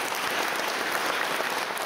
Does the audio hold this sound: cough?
no